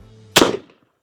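A single sharp .45-70 rifle report with a metallic impact on armor plate, a loud close blast that decays over about a third of a second, followed by silence.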